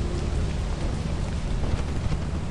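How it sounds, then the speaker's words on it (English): Steady rain falls in a video game, a dense, even hiss with low rumbling beneath it. The sound stays continuous and moderately loud, with no voices. "It is raining."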